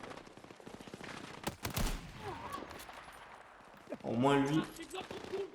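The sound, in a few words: gunfire in video game Battlefield 6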